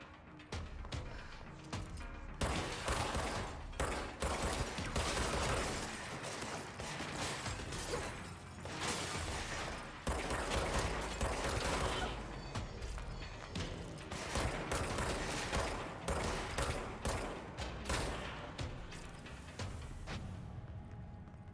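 Gunfire in the video game Control, with rapid clattering shots and mechanical bursts running steadily under a constant game soundscape, fairly loud and repeating across the stretch.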